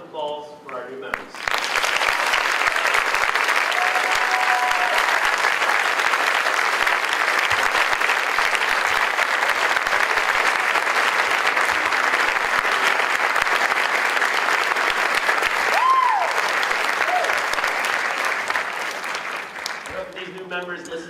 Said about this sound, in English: Please join me in a round of applause for our new members.